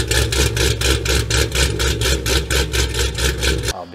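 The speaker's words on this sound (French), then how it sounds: "Ils changent même les arbres à cam, pas pour la performance, mais juste pour que le moteur boite." An American V8 idles with a choppy, lopey rhythm from an aftermarket camshaft, loud and close, with steady pulsing beats and no talk, until it is cut off abruptly at the end.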